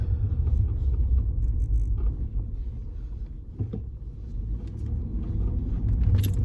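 A Jeep Commander with a throttle performance upgrade drives down a road, giving a steady, close engine rumble with wind and road noise that swells slightly toward the end.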